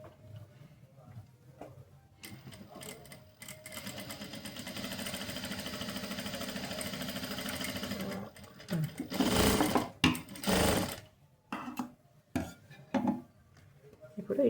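A sewing machine stitches a tuck blouse without lining: a steady motor whir with a rapid needle rattle for several seconds, then short stop-start bursts mixed with clicks and fabric handling.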